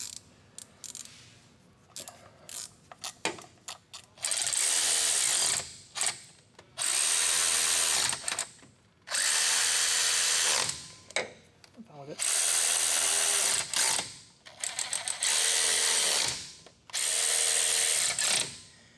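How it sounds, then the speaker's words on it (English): Bolts on a Ford F-series truck's front differential cover are tightened with a half-inch drive ratchet in a spiral pattern. Loud bursts of rapid ratcheting alternate with short pauses and lighter clicks and handling noises. "So when I'm tightening this down with my 1/2 inch, I just want to kind of go in a spiral pattern around the thing."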